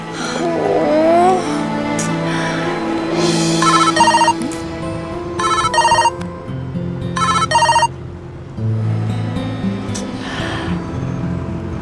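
A telephone ringtone rings loudly in repeated electronic bursts over a background drone, the tone sounding several times across the scene before stopping.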